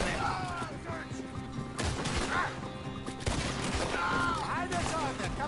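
Gunfire rattles through a shootout in the Western video game Red Dead Redemption, with dense overlapping shots and bursts from near and mid distance while characters shout over the fighting.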